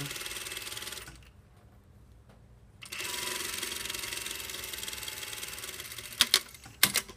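Sewing machine stitching a seam at a 1.5 cm seam allowance, with a steady whirring run that stops briefly, then resumes, ending in a few sharp clicks of back-tacking.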